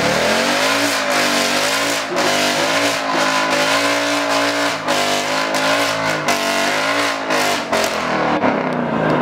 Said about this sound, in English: It's going to do a cheeky burnout, isn't it?